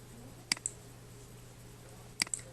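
A computer mouse clicks twice on a link, about two seconds apart. Each click is crisp and sharp, with a faint double tick, heard alone against a quiet electrical hum.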